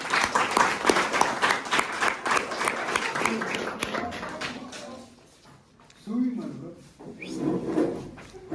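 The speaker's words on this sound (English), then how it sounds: "Can we have a big round of applause for them?" A college audience claps loudly and steadily for several seconds after a presentation, then the applause fades out and a few voices speak.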